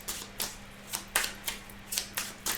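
Tarot cards being shuffled make close, crisp snapping flicks at a steady pace of about two per second, over a faint low hum.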